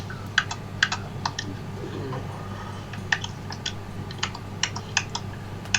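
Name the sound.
clicking of a game controller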